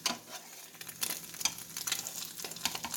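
Egg frying in a pan with a steady sizzle and crackle, plus scraping and tapping as a spatula works under it to flip it, heard up close with no talking.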